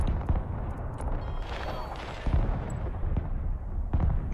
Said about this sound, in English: I'm shooting on their artillery